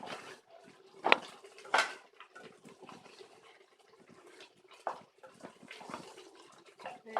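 Chicken with rosemary being stirred in a cooking pot, the cook's voice running throughout over soft scraping and a few louder clinks and knocks of utensil against pot.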